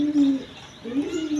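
A pair of Pakistani Peshawari Lahori pigeons in a breeder's cage coo close by, two clear throaty rolling calls separated by a brief pause.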